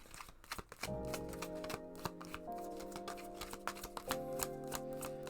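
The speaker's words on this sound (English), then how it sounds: "The shuffling is ASMR to me." Tarot cards being shuffled, giving repeated crisp riffling and tapping bursts over steady background music with sustained tones.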